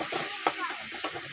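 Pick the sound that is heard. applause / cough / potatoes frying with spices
potatoes frying with spices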